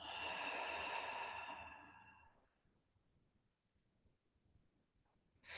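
Deep breathing out during guided meditation, one long breathy exhale that is clear at first and fades away over about two seconds into quiet, heard close and alone.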